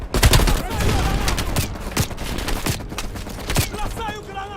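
Dense automatic machine-gun fire in Call of Duty Black Ops Cold War, sustained bursts of rapid shots with sharp cracks throughout a loud battlefield mix, with shouted voices cutting in near the end.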